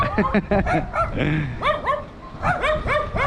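Dogs in the Argentine town of Morteros bark and yip in quick bursts, with whining and whimpering between them, close and fairly loud.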